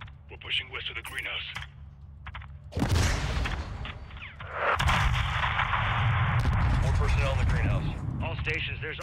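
Airstrike explosions hit a building during a close air support mission in the 2022 Call of Duty: Modern Warfare 2 campaign on PC, heavy booming blasts rolling into sustained rumble, with radio chatter and voices heard over the bombardment.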